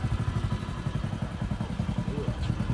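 A motorcycle taxi engine idles close by with a steady pulsing putter and some clatter, and faint talk can be heard around it.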